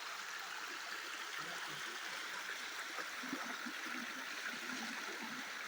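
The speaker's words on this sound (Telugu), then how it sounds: "water flows very nice" At the Enugurai waterfall, water rushes and streams in a steady, even wash of noise heard from a distance, faint and unbroken throughout.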